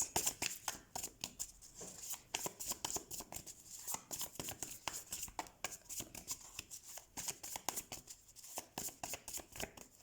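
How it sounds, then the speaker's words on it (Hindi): A deck of tarot cards shuffled by hand, soft and close, with quick riffling bursts of papery flicks repeating steadily throughout, heard alone. "ओह गॉश शफलिंग हुई भी नहीं है अच्छे से।"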